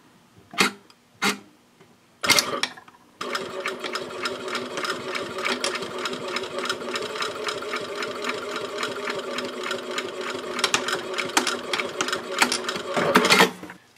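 A sewing machine stitches a seam line on a wristlet pouch, running steadily for about ten seconds after a few short separate bursts, close and alone with no voices.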